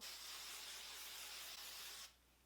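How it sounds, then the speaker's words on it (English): A steady broadband aerosol hiss of hairspray, sprayed continuously for about two seconds before stopping abruptly, close and fairly loud. "So I'm just spraying it"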